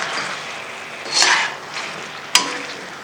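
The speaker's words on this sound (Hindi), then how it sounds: "इसको तेज़ फ्लेम करके हमने भूनना है" Karahi with three to four green chilies frying over a high flame gives a steady close sizzle, with a swell of stirring near the middle and a sharp clink of a spoon against the pan shortly after.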